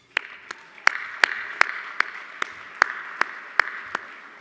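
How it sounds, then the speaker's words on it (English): An audience at an awards luncheon celebrating city livability applauds large-city mayors who won Outstanding Achievement Awards; steady crowd clapping fills the room, with a few sharp, louder claps standing out at regular intervals. "Please join me in giving them a round of applause."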